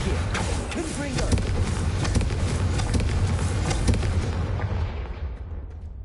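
Confringo fire-blast spell explosions in the Hogwarts Legacy video game, dense booming bursts and rumbling crackle that fill the scene before fading away toward the end, while a voice speaks in the middle.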